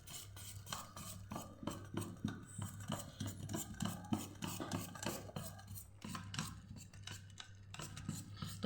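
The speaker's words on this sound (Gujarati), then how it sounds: "પાછું મિક્સ કરી દઈશું આપણે." A spoon stirs thick dahi vada batter in a bowl, giving close, rhythmic scraping and squelching strokes repeated steadily, quiet and without voices.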